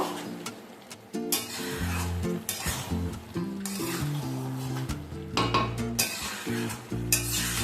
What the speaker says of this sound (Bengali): সমস্ত কিছু ভালোভাবে মিশিয়ে নেব।